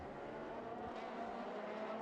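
Race cars circuit Monza during a Trofeo Pirelli race, a steady mid-distance engine drone with a hint of tyre noise, fairly quiet and continuous with no speech.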